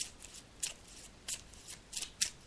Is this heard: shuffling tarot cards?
yes